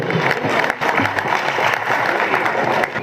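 Loud, steady applause from an audience at a student prize distribution ceremony, welcoming the chief guest, a dense wash of clapping lasting about three seconds with some crowd murmur mixed in.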